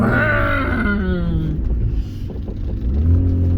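A 2003 Hyundai Tiburon's engine revs up with a rising, loud whine, eases off, then climbs again near the end, heard close with no talk.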